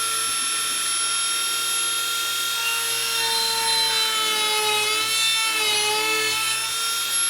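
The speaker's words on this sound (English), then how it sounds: "We'll start the Dremel." A Dremel rotary tool mounted in a workstation drills a hole with a brad point bit, giving a steady, loud, high whine that holds for the whole stretch.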